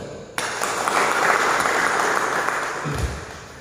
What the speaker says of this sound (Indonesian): Kita beri aplaus juga